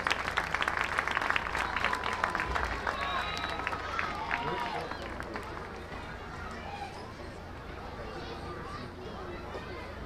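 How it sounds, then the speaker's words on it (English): Crowd applause for the homecoming court at a high school football game, broad outdoor clapping and cheering that is loud at first and then tapers, with chatter and a voice in the background. "give a round of applause to our homecoming court."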